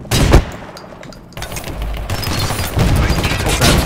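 Gunfire in the first-person shooter game Ballistic Overkill crackles in loud, close bursts of rapid automatic shots with a brief lull, then dense firing resumes and continues to the end.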